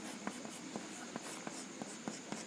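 A pen scratches out the construction steps of a Class 10 triangle geometry exercise, with short, evenly spaced strokes over a constant background hiss, close and quiet, with no talking.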